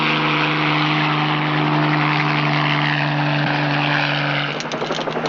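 A police patrol helicopter flying over mountains, a steady loud rotor and engine drone with a low hum, changing slightly near the end.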